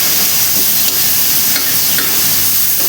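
Fish sizzling in hot oil in a pan, a dense continuous frying hiss, loud and close, with a few faint crackles and no talk.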